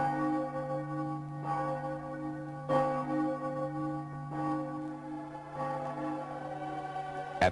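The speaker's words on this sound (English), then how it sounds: "the bells were ringing the vesper hour" Church bells ring for the vesper hour, several sustained chimes that strike in a slow, regular succession and overlap into a ringing, resonant hum, heard faintly from a distance with no voices.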